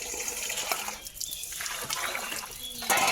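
Water pours and trickles over tamarind being washed in a basin, a close splashing, dribbling flow with brief pauses, while people talk over it.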